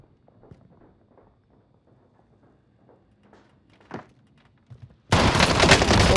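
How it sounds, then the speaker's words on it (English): Footsteps in Call of Duty Warzone, a series of faint soft steps pattering at a walking pace, a couple of louder knocks, then loud gunfire abruptly taking over at the end. "Heard footsteps."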